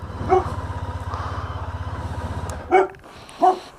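A dog gives a few sharp barks at about a second apart, fairly close and loud, over a steady low engine rumble, probably a motorcycle idling, on a gravel roadside stop between Erskine and Glencoe.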